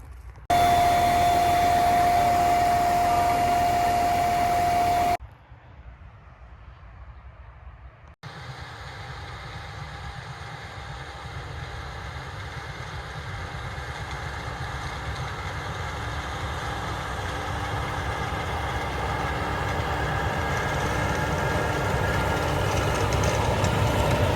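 A John Deere 6R250 tractor engine drones loudly, cuts out briefly for a few seconds, then returns as a steady rumbling run that slowly grows a little louder.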